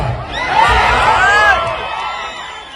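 A crowd cheers, whoops and shouts at a film teaser launch event, a loud swell of voices that peaks mid-clip and then eases off.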